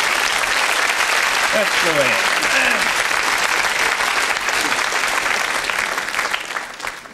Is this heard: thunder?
no